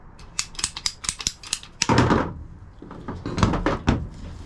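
PVC pipe being cut along a marked line during a repair with 45° fittings, heard as a series of sharp close snipping clicks followed by a longer grinding cut, with no talking.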